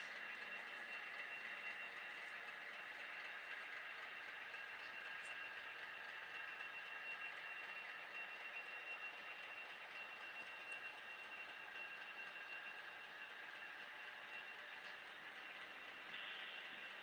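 A freight train of mostly empty hopper cars rolls past in a steady, faint rumble with a continuous metallic hiss and squeal from the wheels, distant and unbroken.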